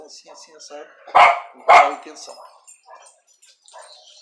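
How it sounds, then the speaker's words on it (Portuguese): A dog barking in the distance, a block away at night, two sharp loud barks mid-way with fainter yips around them, heard under someone speaking Portuguese. "eu estou escutando o cachorro latindo lá na outra quadra"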